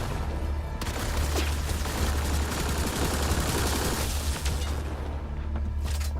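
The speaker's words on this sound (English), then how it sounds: "The hell are you guys shooting at?" Gunfire during combat in the video game Mass Effect: Andromeda, a dense continuous barrage of rapid shots and booms with bursts layered over a heavy low rumble, loud and sustained without pause.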